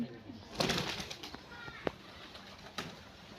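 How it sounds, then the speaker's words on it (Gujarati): Pigeons stir nearby on a roof terrace with a few soft wing flaps and faint cooing, scattered brief bursts over a quiet outdoor background. "કબૂતર ધાબામાં થઈ સણે છે"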